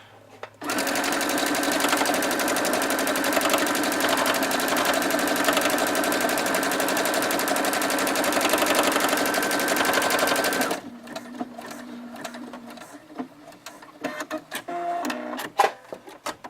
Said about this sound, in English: I love the automatic bar tack in this machine.